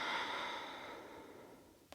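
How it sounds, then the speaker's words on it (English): One soft, slow exhalation fades out gradually during a yoga core-strength session, quiet and close, ending with a faint click. "breathing out."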